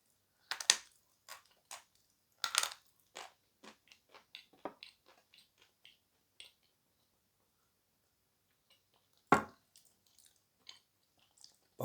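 Creamy edible chalk bitten and chewed up close: a few sharp crunchy snaps followed by a run of softer, irregular chewing crunches, then another firm bite near the end. No other sounds.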